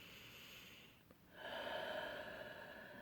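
A single slow breath drawn in through the nose during a quiet meditation, soft and close, rising from near silence into a steady airy rush that holds to the end.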